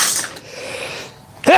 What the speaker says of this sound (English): Sorry for sneezing.